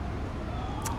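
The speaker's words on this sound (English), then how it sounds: "you could probably hear the sirens" Sirens of fire trucks and police passing nearby, a faint wailing tone in the background under steady outdoor noise beside a brook.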